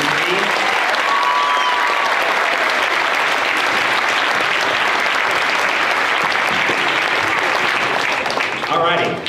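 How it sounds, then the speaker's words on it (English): Sustained, steady applause from a school concert audience for the 7th and 8th grade band at a Christmas concert, dense and loud throughout with a few cheers. "Another round of applause for our 7th and 8th grade band."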